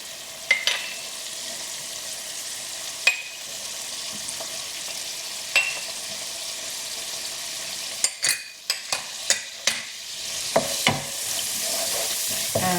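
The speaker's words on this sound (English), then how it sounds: "And saute this for about a minute or so over medium heat" Spices and onions sauteing in hot oil over medium heat for a Bangladeshi king prawn bhuna curry: a continuous close sizzle punctuated by sharp scrapes and clacks of a utensil stirring the pan, clustered toward the end.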